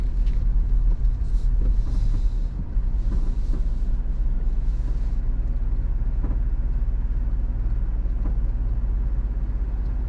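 Heard from inside, a car pulls in to park at a beach park in Bargara near Bundaberg, a loud steady low engine and road rumble with a few soft creaks and no talking.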